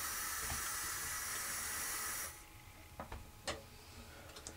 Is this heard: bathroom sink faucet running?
yes